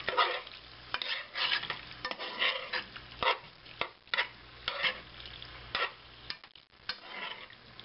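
Chili dog mac is stirred in a hot pan: a series of uneven, close scraping strokes over a soft sizzle, with brief pauses between.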